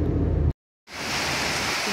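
Heavy rain pours steadily during a thunderstorm, a dense loud hiss of drops with a deep rumble at the start, cutting briefly to silence before the downpour resumes alone.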